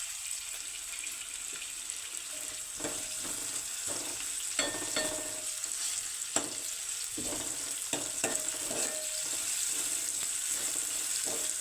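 Chopped carrot fries in a pan until brown, a soft continuous sizzle with repeated scraping stirs of a utensil against the pan, close and fairly quiet, with no talking.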